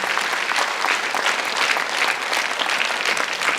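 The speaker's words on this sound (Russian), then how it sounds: "Вот эти аплодисменты обязательно к нее дойдут, и ваши благодарности." Concert audience at a Cossack folk song ensemble performance in Tver applauds in a dense, sustained wash of clapping that stays even throughout.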